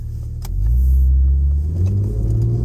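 A Porsche with a Tiptronic automatic transmission accelerates from inside the cabin, its low engine rumble swelling after a brief pause and then holding a steady, close drone with no talk.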